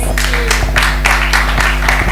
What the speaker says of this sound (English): A louder round of applause to my panelists, please